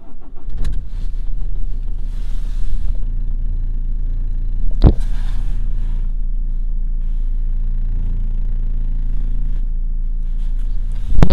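A car's engine runs at a steady low idle rumble, close by, punctuated by a few sharp clicks and knocks; the car has a newly fitted K&N air filter and vibration that shakes the interior trim.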